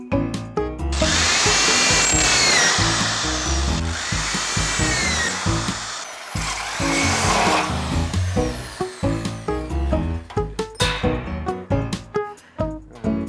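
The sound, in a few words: power drill cutting holes in a boat dashboard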